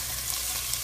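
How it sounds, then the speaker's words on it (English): Garlic and red pepper flakes sizzling lightly in oil in a pan, a steady soft frying hiss with small pops, close and continuous, no talking. "I just want a light sizzle."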